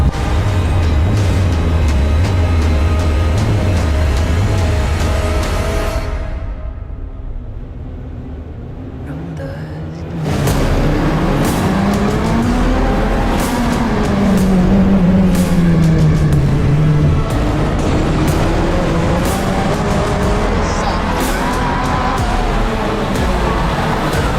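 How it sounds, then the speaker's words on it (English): A race car engine roars loudly in a racing game, revving through gears with pitch sweeping up and down, briefly dropping off mid-clip before surging back with continuous high-revving drone and sharp shift pops. "Let's drive the race car in circles, shall we?"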